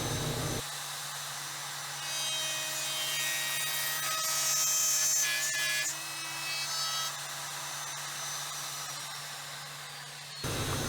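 A router on a dovetail jig cuts the tails of dovetail joints in wooden boards for a small keepsake box, giving a steady, continuous high whine with a low motor hum, close and loud, starting and stopping abruptly.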